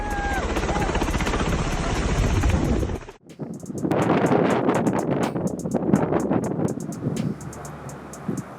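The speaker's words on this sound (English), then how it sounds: "When the helicopter decides to ruin your picnic" A helicopter roars loudly and close by over a beach, its steady rotor noise dipping briefly before returning with a rhythmic chopping pulse.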